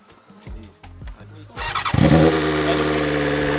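A new motorcycle cranks with a few sputtering turns, then catches and fires up into a loud, steady idle close by, with people talking around it.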